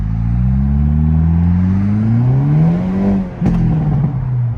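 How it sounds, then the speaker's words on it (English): Hyundai Elantra N exhaust heard from inside while driving, a deep droning engine note rising and gliding in pitch as it pulls through the gears, with a brief dip and shift, loud and close. "let's see if I can get an exhaust clip here"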